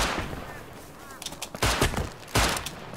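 Gunshots in the video game Rust, several sharp close cracks fired in a few separated bursts over a rumbling background.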